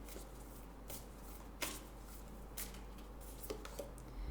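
Moonology advice cards being shuffled by hand for a tarot reading, a steady papery riffling with a few sharper slaps, close and alone without speech.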